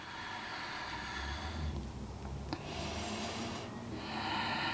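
Slow, deep breaths during a stretching session, close and soft, with airy inhales and exhales drawn out over several seconds and no talking.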